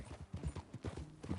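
Horse hooves from the video game Red Dead Redemption II clip-clop in a quick, steady rhythm of hollow knocks, close and moderately loud, with no talking.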